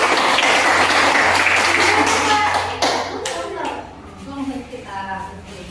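Classroom children clap their hands together in a loud burst that fades after a few seconds, followed by quieter talking voices.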